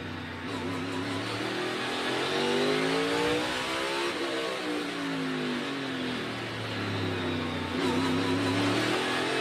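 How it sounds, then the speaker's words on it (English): A race car's engine at Busch Clash stock car practice roars loud and close, its pitch sliding down as revs drop into a corner, then climbing again as it accelerates out. "You hear how far down on RPM they get when they get back in the corners."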